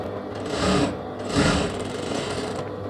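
Sewing machine stitching a seam on a semi-patiala pant, two short bursts of running stitches close by with a steady mechanical whir between them, no voices.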